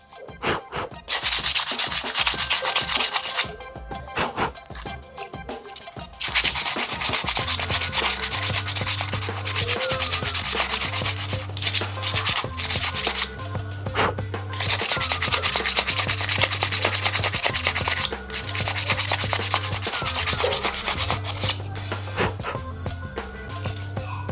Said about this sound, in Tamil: அதுக்கு தான் நம்ம இதுவும் இந்த ஃபேஸ்லேயும் வந்து எம்எரி வச்சு தேய்க்கணும்.